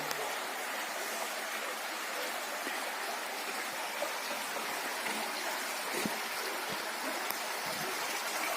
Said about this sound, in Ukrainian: Я гарно чути шум води.